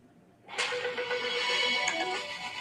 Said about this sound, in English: that noise you just heard is them sending me a weather alert